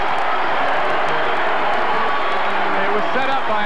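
Arena crowd noise at a 1988–1990 NCAA basketball game, UCSB against UNLV, roaring steadily and loudly throughout, with a broadcast commentator talking over it.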